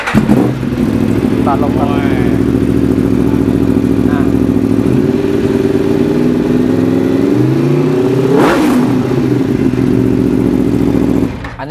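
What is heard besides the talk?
motorcycle starting and revving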